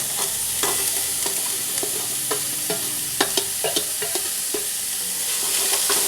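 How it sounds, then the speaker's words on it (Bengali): Paneer is stir-fried in a pan for paneer bhujiya: a steady hissing sizzle up close, punctuated by regular scraping strokes and taps of a spatula against the pan, with no talking. "এবার আমি পনিরটা এতে ঢেলে দিচ্ছি বন্ধুরা।"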